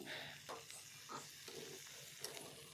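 Ivy gourd (gokarakaya) and egg frying in a pan, with a soft continuous sizzle broken by brief stirring scrapes, all quiet and close.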